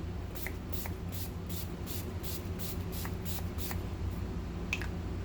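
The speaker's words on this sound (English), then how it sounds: "I take my Urban Decay All Nighter setting spray" Repeated short hissing bursts of Urban Decay All Nighter setting spray onto a face, about a dozen in a quick steady rhythm, close by over a constant low background hum.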